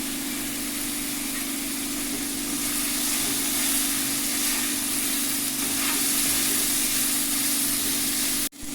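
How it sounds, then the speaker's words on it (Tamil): Onions and spices sautéing in hot oil for a prawn curry give a steady, close, continuous sizzle with faint stirring scrapes, holding even throughout before cutting off abruptly at the end; no one speaks. "அதில் இன்னும் கொஞ்சம் எண்ணெயை ஊற்றிட்டு மறுபடியும் நல்லா வதக்கிக்கிட்டு இருக்கணும்."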